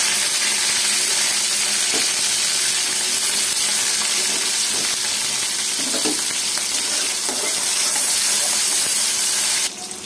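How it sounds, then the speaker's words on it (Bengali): Onions sizzle in hot oil in a kadai, the start of a Bengali bathua greens and prawn dish: a steady, close, dense frying hiss for about ten seconds, broken by a few soft stirring knocks, with no talking. "প্রথমে একটা কড়াইয়ে তেল নিয়ে নিয়েছি, এর মধ্যে দিয়ে দেবো কিছু পেঁয়াজ"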